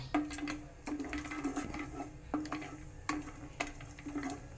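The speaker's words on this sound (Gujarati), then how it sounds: "ત્રણ ચમચી ઘી એડ કરીએ. તેમાં શિંગદાણા થોડા સાંતરી લઈએ." Peanuts roast in three spoons of ghee with a soft, faint sizzle, punctuated by light scraping clicks and taps from stirring at a slow, uneven rhythm.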